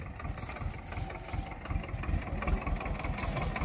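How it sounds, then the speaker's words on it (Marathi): A tractor engine idles nearby on a watermelon farm, a steady rough low chugging rumble that holds throughout at moderate loudness with no talk. "आता ट्रॅक्टर आपण इथं लावू,"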